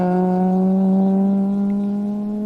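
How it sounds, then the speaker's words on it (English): A Toyota Corolla rally car on a gravel special stage at the International Rally of Whangarei in New Zealand, its engine holding a loud, steady, buzzing drone close by that eases slightly as it passes. "Cool sounding car."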